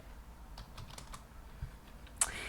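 Quiet, rapid keystrokes on a computer keyboard as a command is typed, a short burst of clicks ending in a sharper key press.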